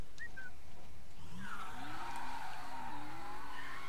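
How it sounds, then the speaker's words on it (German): Loud car engine and skidding tires in the video game Mafia 3, with a rising engine tone and tire squeal that run steadily through the moment, without talk. "Das Auto ist ganz schön laut."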